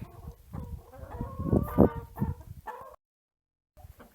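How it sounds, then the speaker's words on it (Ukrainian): A rooster clucks and gurgles several times up close, growing louder in the middle, followed by a short silence and a faint final sound. "Такий в нас півничок"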